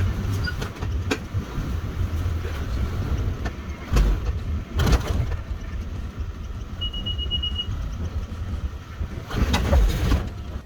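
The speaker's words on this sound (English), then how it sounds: "Let's get in the truck, give this a whirl." An old barn-find Leyland COE truck engine runs with a steady, rough low rumble, punctuated by a few louder clunks and bursts, heard fairly close.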